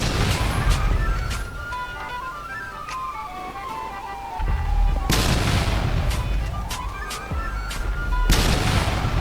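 Grenade explosions and gunfire in the game GTA V on a FiveM server: sharp bangs and booms burst out at several points, with a rising and falling siren-like tone running between them.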